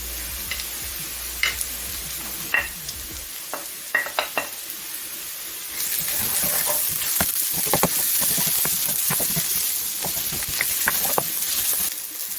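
Ginger and garlic sizzle with onions in a pan for red lentil dahl, with scattered spoon taps first and then a steady, close frying hiss with crackles.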